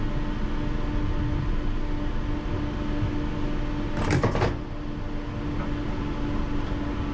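A brief clatter and rush of sliding London Underground train doors shutting over a steady rumble of a waiting carriage, then the hum continues.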